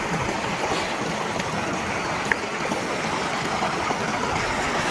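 A river stream rushes steadily nearby, a constant even wash of flowing water with no breaks and no voices.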